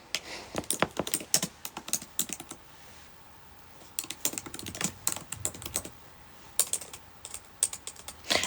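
Fast typing on a computer keyboard, with dense clattering bursts of keystrokes broken by a short pause in the middle, close by and without speech.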